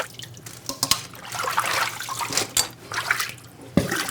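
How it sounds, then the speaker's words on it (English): Rinsed bok choy drains in a kitchen sieve, water trickling and dripping steadily with a few sharper splashes and patters, close by with no voices. "Drain the water."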